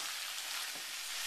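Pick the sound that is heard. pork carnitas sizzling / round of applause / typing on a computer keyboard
pork carnitas sizzling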